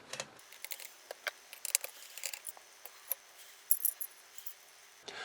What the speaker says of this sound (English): So we're just going to undo the screws.